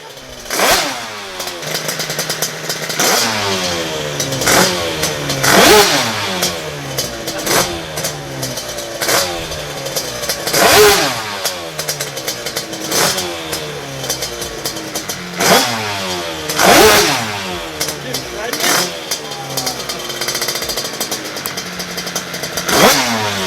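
A 200cc twin two-stroke scooter engine revs loudly and alone, climbing in repeated throttle blips roughly every few seconds with rising pitch sweeps and a buzzy, raspy tone between bursts.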